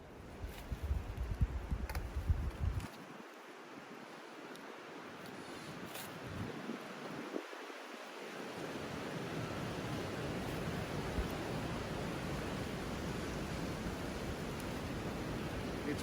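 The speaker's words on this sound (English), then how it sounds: "It's windy, man." Wind blows through a snowy forest as a constant broad rush, with low gusting buffets thumping against the microphone in the opening seconds before settling into a steady hiss.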